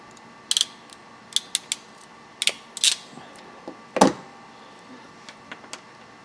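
Sharp mechanical clicks and snaps from a crimping tool closing a butt connector on ignition harness wires, a sparse series of close, dry ticks with one heavier crunch midway, no talking.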